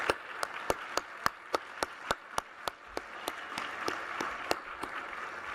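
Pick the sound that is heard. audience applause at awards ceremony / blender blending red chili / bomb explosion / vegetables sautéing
audience applause at awards ceremony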